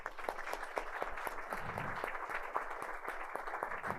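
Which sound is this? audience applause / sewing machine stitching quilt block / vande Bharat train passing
audience applause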